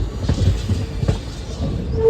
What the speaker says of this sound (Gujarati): આપણે પહોંચી રહ્યા છીએ નવાગઢ રેલવે સ્ટેશન